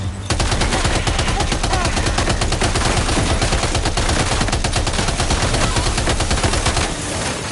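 Sustained rapid gunfire from a Death Stranding 2 game battle, a dense, loud, continuous automatic burst that runs unbroken for several seconds.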